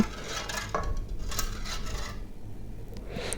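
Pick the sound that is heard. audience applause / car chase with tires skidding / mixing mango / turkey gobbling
mixing mango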